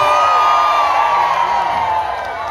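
A large concert crowd at a cover show in the Philippines cheers and whoops loudly in a sustained roar, with high shouts layered over the dense noise.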